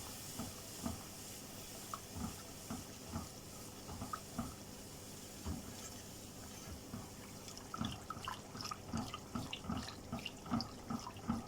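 A utensil stirs a pot of room-temperature milk, making soft repeated scraping and sloshing strokes at an even rhythm, quiet and close, growing busier toward the end.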